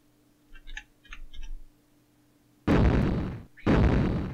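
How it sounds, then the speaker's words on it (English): Gunfire in the Amiga video game Eye of the Beholder II, two loud, sharp noisy blasts in close succession following a few faint soft clicks. "He shot his little buddy."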